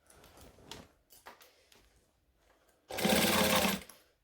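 A sewing machine stitches down a hoodie seam in one steady, fast whirring run of about a second, preceded by quiet handling clicks and rustles of fabric.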